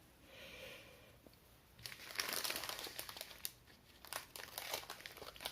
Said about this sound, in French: je vais prendre mon ciseau pour couper